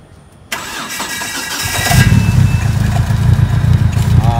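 After a moment of quiet, a Proton Wira Evo engine cranks, catches, and settles into a loud, steady rumbling idle close by.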